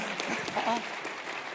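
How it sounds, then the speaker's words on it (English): A brief burst of audience clapping sounds at a sales masterclass, a diffuse wash of hands in a hall under a speaking voice. "come on, clap now"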